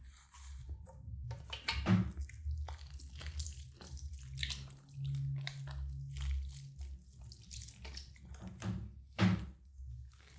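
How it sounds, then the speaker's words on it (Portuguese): Running water rinses shampoo out of straightened hair at a salon wash, a steady close splashing and gurgling stream with wet squishing handling and a couple of louder thumps, without talk. "Então vamos enxaguar, tirar esse shampoo aqui"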